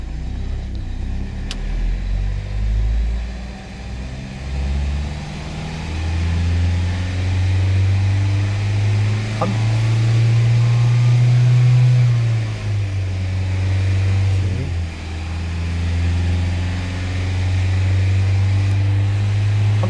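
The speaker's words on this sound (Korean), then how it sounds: "RPM을 크리닝 전과 같이 3000 RPM 정도로 올려보도록 하겠습니다." Car engine revving up and holding near 3000 RPM after a cleaning, during a repair for an engine warning light; a steady, loud engine drone that rises and dips slightly, with no talking.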